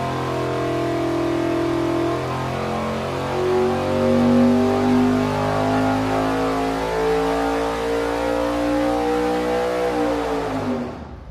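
A 582 big block Chevy engine fitted with a 1250 CFM carburetor runs a sustained, loud, close, rising dyno pull for about ten seconds with a rich harmonic roar, then cuts off abruptly at the end, with no talking.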